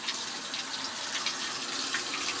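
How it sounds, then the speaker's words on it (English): Hot water from a tap runs steadily through a part of an electric steam boiler, a close, loud, continuous gushing splash with no talk. "I'm gonna run some hot water through this"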